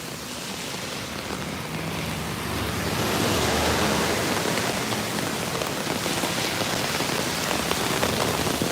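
Heavy rain pours down on a Brooklyn street in a steady, dense hiss that swells louder midway and stays close and enveloping.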